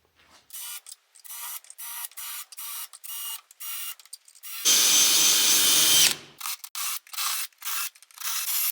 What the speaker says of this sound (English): First, I got to drill these welds out and get this bottom piece I cut off out